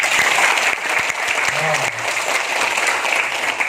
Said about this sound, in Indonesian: Coba tepuk tangan sekarang